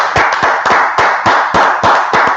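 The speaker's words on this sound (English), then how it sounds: "Let's clap that one." Clapping at a community gathering of the Israelite School of Universal and Practical Knowledge in Minneapolis, heard as sharp, loud claps struck in a steady, evenly spaced rhythm.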